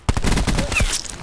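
A quick string of pistol shots in a video game, several sharp cracks fired in rapid succession over a short burst, with a voice faintly in the background.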